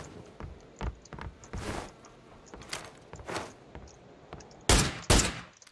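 Gunfire in the video game PLAYERUNKNOWN'S BATTLEGROUNDS: scattered sharp shots at irregular intervals, some faint and distant, ending with two louder, closer cracks.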